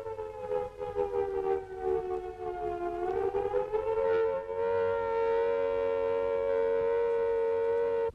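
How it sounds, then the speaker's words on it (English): Civil defence air raid warning siren wailing loud and steady, its tone dipping and then rising to a sustained high pitch that holds to the end, with no voices. "When you hear these warning sirens, take cover at once."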